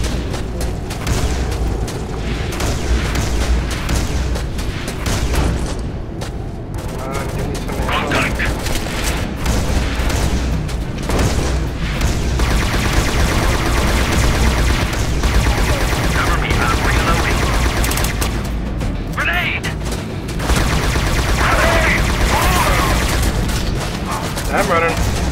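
A mounted gun in the co-op shooter game Scourge Outbreak fires sustained bursts amid explosions and combat noise, loud and continuous, with players talking over the gunfire.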